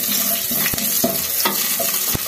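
Horse gram fries in a pan with a dense, loud, continuous sizzle, broken by a few sharp clicks as a utensil stirs the pan, with nobody speaking.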